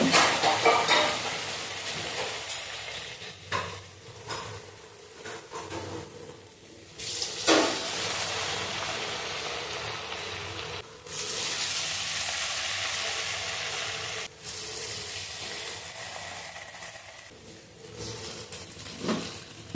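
Assamese pitha with a jaggery filling being lightly fried in hot oil, a loud, close sizzle that swells and fades in waves, with stirring noises and brief quieter gaps.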